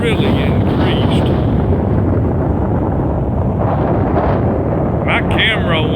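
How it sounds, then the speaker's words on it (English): Strong gusty wind buffets the microphone in a continuous loud roar, with faint brief higher sounds near the end; a voice seems to murmur beneath the rumble at times. "This wind is so just crazy."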